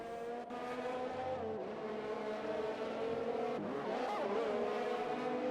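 Race cars in a racing video game roar in a steady, high-pitched engine whine, with pitch shifts as they shift and corner on a track in China, loud and continuous throughout.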